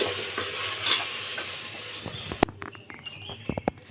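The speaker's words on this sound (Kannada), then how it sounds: "ಸ್ವಲ್ಪ ಮಸಾಲೆನ ಫ್ರೈ ಮಾಡ್ಕೊಂಡು." Raw masala frying in oil in a pan for mint rice, with a constant close sizzle and spatula stirring that gives way to scattered scraping clicks and taps.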